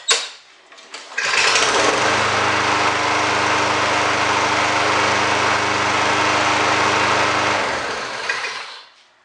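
Small lawn mower engine running steadily after start-up, a loud continuous buzzing drone that holds constant for several seconds before cutting off, with a brief sputter at the start.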